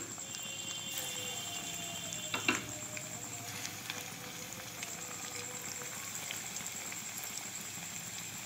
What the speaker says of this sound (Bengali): এবার নাগেটগুলো আস্তে আস্তে ভেজে নেব